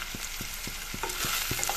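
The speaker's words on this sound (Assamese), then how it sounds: "এইখিনি সেই তেলতে অলপ ভাজি ল'ম বেছি সময় নাথাকিব নতুবা জ্বলি যাব" Ground turmeric, chilli, coriander and cumin powders frying in oil for a fish curry, a soft steady sizzle broken by about six regular scrapes of a stirring spoon, close and alone.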